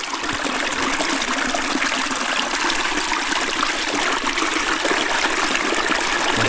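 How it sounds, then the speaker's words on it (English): A big mud puddle draining into a creek after a hurricane, making a steady loud rush and gush of water that stays close and unbroken throughout with no voices. "Drain that big old mud puddle."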